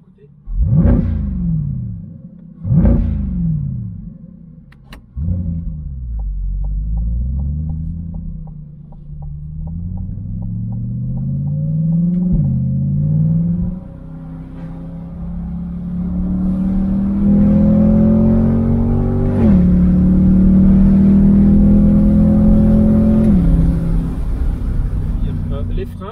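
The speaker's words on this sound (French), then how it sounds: "Alors on récupère un peu de lumière et de son. Récoutez." A Chevrolet Corvette C8 with its roof open, its engine revving sharply a few times and then pulling through rising gear-by-gear acceleration, loud and close, with a deep steady rumble between shifts.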